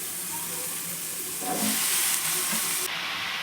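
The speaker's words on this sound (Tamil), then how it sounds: "இப்போ குடமிளகாய் சேர்த்துக்கலாம்." Capsicum added to a hot pan with onion and tomato: a steady, broad hiss of sizzling that swells a little midway, close and continuous, with no talk.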